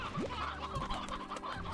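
Chickens cluck in the Slime Rancher video game, a few short nearby clucks and squawks over a busy game background.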